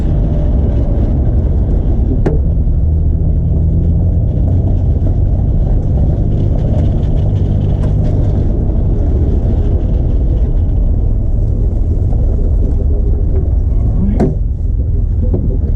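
A loud car engine idles with a heavy, uneven rumble throughout, misfiring and losing cylinders, occasional sharp pops breaking through the steady drone.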